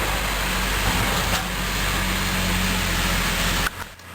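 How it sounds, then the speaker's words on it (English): A truck passing outside makes a loud, steady broadband roar with low rumble that fills the scene, then drops away abruptly near the end. "I apologize about the noise, but there's a truck"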